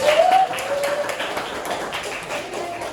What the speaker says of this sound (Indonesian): Tepuk tangan dulu untuk Ahira